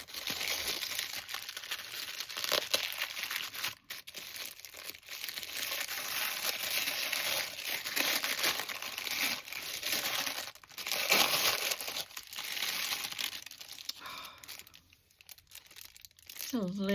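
Tissue paper printed with bird feathers, rustled and crinkled close up while unwrapping a package of mail, in irregular bursts of crackling with brief quieter pauses.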